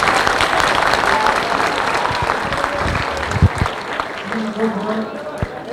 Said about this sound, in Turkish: Alkışlarınızla hoş geldiniz diyor